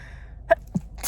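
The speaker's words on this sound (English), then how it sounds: "I'm gonna sneeze." A short, quiet sneeze with a sharp burst and a softer follow-up, nearby, in an otherwise quiet room.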